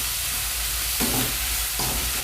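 Chopped onion sautéing in oil in a pan for Andhra-style Guntur chicken, a loud, close, continuous sizzle with two bursts of stirring that briefly swell the hiss.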